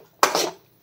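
A small dish picked up and set down in a kitchen, one short close clatter of metal or crockery surrounded by quiet.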